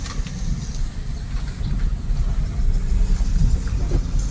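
A car moves on a road during a driving lesson in Kolkata, giving a steady low engine rumble and road noise from inside the cabin with occasional small knocks and no clear talk.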